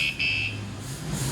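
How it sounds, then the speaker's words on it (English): A high, steady electronic buzzing tone rings out in two bursts at the start, then gives way to low background hum. "That was the alarm."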